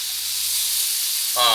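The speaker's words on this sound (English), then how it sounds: "So I'm going to go ahead and put the bacon in." Bacon sizzling in a skillet makes a continuous close, loud hiss, and a voice starts speaking at the very end.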